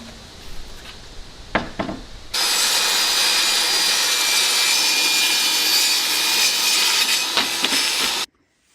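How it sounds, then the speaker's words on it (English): A handsaw cuts a wooden board flush in a continuous run of brisk rasping strokes close by, preceded by a few light knocks and ending abruptly. "So I'm gonna cut this flush because I don't have trim that matches."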